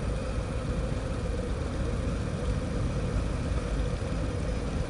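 A 2018 Harley-Davidson Breakout idling at 800-900 RPM, a steady low rumbling engine drone with a constant even texture, close up and alone.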